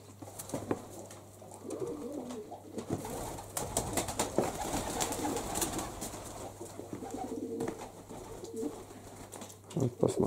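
Pigeons coo softly and repeatedly inside a dovecote, with low murmuring calls layered over one another, scattered wing flutters and shuffling, and a steady low hum underneath.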